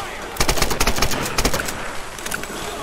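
Rapid gunfire in Tomb Raider (2013), with bursts of sharp automatic shots in quick succession, loud and close, then scattered fainter shots as it tapers off.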